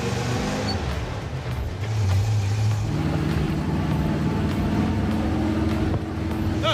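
Dave's 4x4 K20 truck rolls along a street, its engine droning steadily with road noise, pitch rising slightly as it picks up speed partway through, heard from inside the cab.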